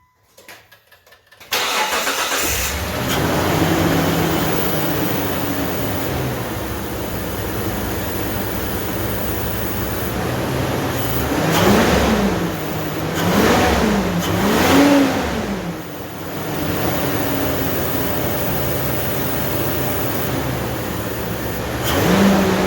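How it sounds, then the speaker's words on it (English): A Mitsubishi Pajero 3.5L GDI V6 with an aftermarket intake cranks and starts, then settles into a steady idle broken by three quick revs mid-way, the engine loud and close with no talking. "let me start up the vehicle, make sure everything's all tight, and we'll hear how she sounds"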